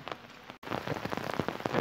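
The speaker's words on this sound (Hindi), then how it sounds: "यहाँ तो भाई सुबह से ही बारिश हो रही है" Steady rain falls through a morning walk to a grocery store under an umbrella, a close, dense patter with a brief dropout partway.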